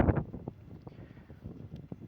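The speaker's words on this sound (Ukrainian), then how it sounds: "Вітер трохи тяжко не дає." Gusty wind buffeting outdoors over strawberry mini-tunnels in a low, rumbling rush with a few sharp bursts, close and fairly loud, no talking.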